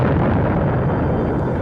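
Massive accidental blast in the forward magazines of the battleship USS Maine, 1898, a dense, sustained low rumble filling the whole stretch at steady loudness with no distinct separate bangs.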